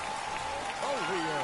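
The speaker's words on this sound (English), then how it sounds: "The home crowd goes crazy" Home fans roar and applaud at a Frisco RoughRiders minor league baseball game as runs score, a broad steady crowd wash with a commentator talking over it.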